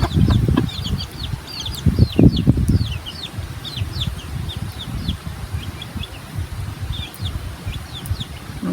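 Hens cluck and murmur near a farmyard, their low throaty calls rising in bursts, with chicks peeping high and thin in the background, close and fairly loud.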